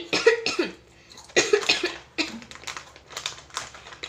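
Several harsh coughs come in bursts, one or two at a time, with short quiet pauses between them, close and fairly loud.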